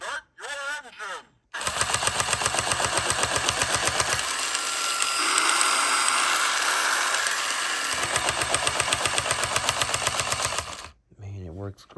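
A small toy motor whirs into a rapid, buzzing rattle with a steady pulsing rhythm, running continuously close up before cutting off; brief talk at both ends.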